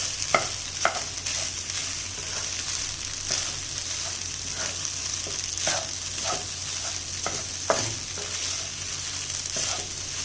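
Egg scramble and green masala rice stirred together in a pan, with a steady sizzle and a series of sharp spatula scrapes and clicks throughout, close and alone.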